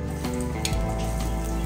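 Garlic frying in olive oil in a pan, a steady close sizzle with a brief clink of a utensil partway through.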